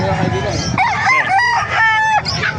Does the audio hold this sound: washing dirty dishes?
no